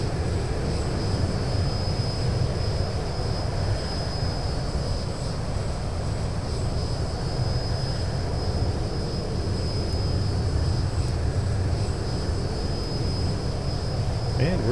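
A simulated Boeing 737-900 airliner cruising at 18,000 feet in X-Plane 11, a steady even cockpit drone with a constant high whine, unbroken throughout.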